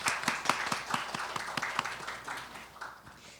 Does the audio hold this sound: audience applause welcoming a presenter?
yes